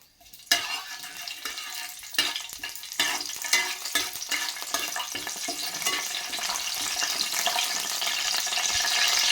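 Curry leaves fry in hot oil for a broad bean masala fry curry, a bright, steady sizzle that swells louder over several seconds, broken by sharp clicks of stirring against the pan.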